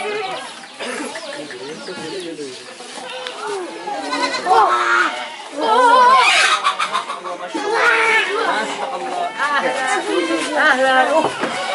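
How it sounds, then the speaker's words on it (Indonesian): Young goat kids, about a month old, bleat repeatedly and overlap in a busy livestock pen, loud and close, with someone talking throughout and other farm animals calling in the background. "Coba dilihat-lihat nih anak kambingnya nih."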